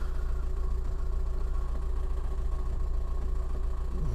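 A Volkswagen T5 minibus engine idling just after starting, a steady close low mechanical rumble with an even pulsing beat and no talk.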